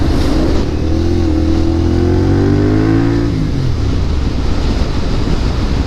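A CFMOTO 450SR motorcycle engine revs up as the throttle is twisted, its loud, close tone rising and then dropping back, with strong wind rush throughout.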